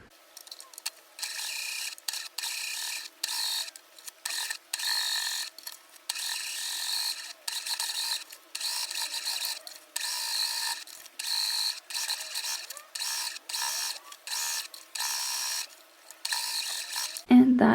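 Domestic sewing machine stitching the hem of an Ali skirt, a rapid mechanical whirring in repeated bursts separated by short pauses, fairly close and steady, with no one talking.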